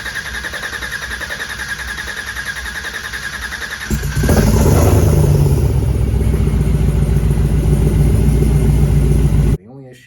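After a few seconds of quieter background, an LT4 crate engine swapped into an El Camino fires up. It settles into a loud, close, steady rumble and then cuts off sharply near the end.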